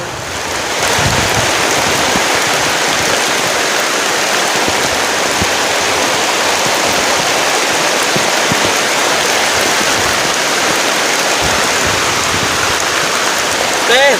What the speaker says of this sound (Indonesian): hujannya besar banget